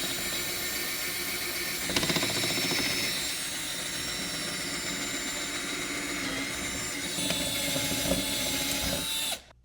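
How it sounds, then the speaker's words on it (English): Power drill boring out the rivet on a front license plate holder of a 2012–2018 Ford Focus, a continuous loud whine with grinding bursts where the bit bites, then stopping abruptly at the end. "So I moved up 1 drill bit to 1/4 inch and I got the head off."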